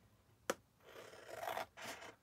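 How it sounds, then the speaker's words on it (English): Edge of a paper journal page being trimmed: one sharp snip, then a longer scraping, rasping cut in two strokes, close and fairly quiet, with no talking. "Let's trim that edge off like that."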